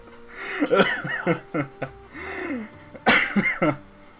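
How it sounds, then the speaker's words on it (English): A person with bad allergies coughs and clears their throat in short bursts during a gaming session, mixed with breathy chuckles and gasps, close and dry with brief gaps between fits. "Sorry if I cough a lot too."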